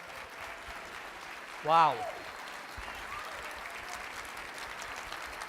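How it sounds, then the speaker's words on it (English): An audience in a room applauding, a steady, fairly distant patter of clapping, with one voice briefly exclaiming over it. "I applaud you"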